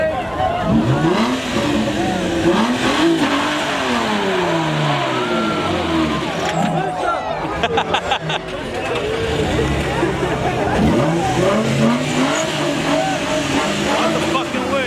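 Engines rev hard and a car launches at a busy street car meet, loud, close and sustained, with a shouting crowd and babble throughout.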